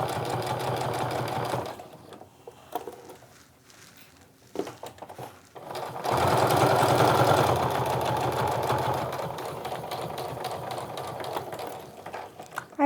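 A sewing machine stitching a canvas and cork wristlet, with a steady close mechanical whir in two long runs separated by a quieter pause with light handling noises.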